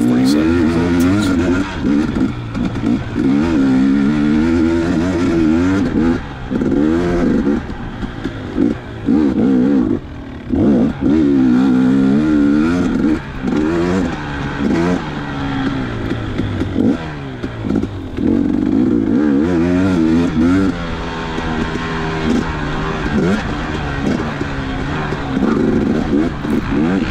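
A dirt bike races through heavy mud in an outlaw-style GP, its engine loud and close, revving hard and surging again and again with brief throttle dips between pulls.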